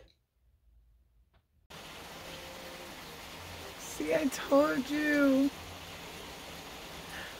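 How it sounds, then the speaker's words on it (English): Rain falls outside as a steady, soft hiss that runs without a break once it begins, while a cat meows a few times midway and a voice speaks briefly. "I can hear the rain."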